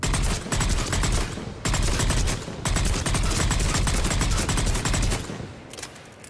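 Valkyrie rifle gunfire in the Mass Effect video game, rapid continuous bursts of shots in long strings with brief gaps between them, loud and close.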